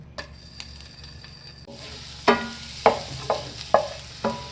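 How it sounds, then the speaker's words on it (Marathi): Garlic dropped into hot oil in a pan flares into a sizzle, then five evenly spaced scraping stirs rise above the frying hiss, all fairly close. "तेल घातला आतां एक गार्लीक उडयता हितून"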